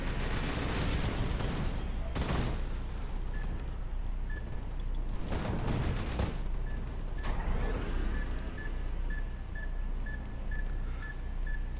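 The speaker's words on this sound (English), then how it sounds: "I think those are remote demo charges. Indeed they are, because they went up simultaneously." Remote demo charges in the Rise of the Reds strategy game detonate together in a heavy burst amid surrounding gunfire and booms, a dense, loud battlefield clatter with sharp blasts standing out around the middle.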